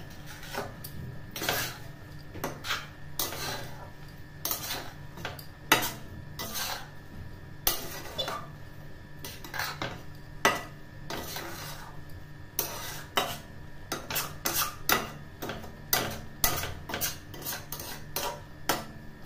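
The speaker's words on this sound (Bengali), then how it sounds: "চিনিটা এভাবে মিশিয়ে নিচ্ছি নারকেল আর দুধের সাথে।" A spoon scrapes and clinks around a pan as sugar is stirred into grated coconut and milk for a sweet pitha filling, steady repeated strokes with sharp metallic ticks, close and moderately loud, no talking.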